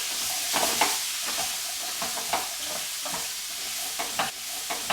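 Turmeric and spices stirred around a hot pan for vegan curried beetroot, with a steady sizzle and scattered scraping clicks of the spoon, close and alone.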